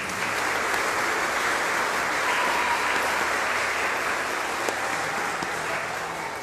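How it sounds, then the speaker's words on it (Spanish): A church congregation at a Sunday Eucharist in Barva parish applauds people celebrating birthdays, a dense, loud, continuous wash of clapping from many hands that holds steady throughout. "Un aplauso a los cumpleaños"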